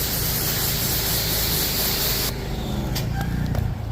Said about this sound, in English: I spray this off because you don't want to let that get dry